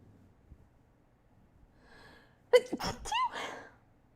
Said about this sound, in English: Oh yeah, that was a sneeze.